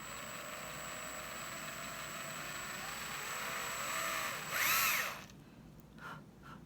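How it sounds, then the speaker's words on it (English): A power drill whirs steadily, rising in pitch as it bores through a dried bottle gourd, then winds down and stops, leaving faint handling noises. "You get your drill out"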